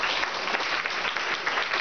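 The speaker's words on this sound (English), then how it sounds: "Give an applause," Classroom applause for a student solving mental multiplication problems, brisk continuous clapping from a group of children, close and steady for the whole short stretch with no talking.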